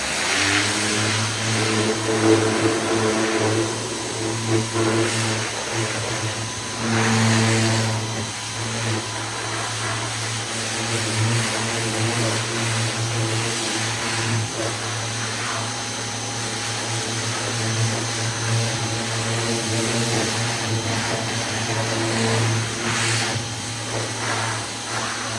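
A pressure washer sprays car rims during exterior detailing, its motor holding a loud steady hum under a continuous hiss of water, with slight surges in pitch and no talk.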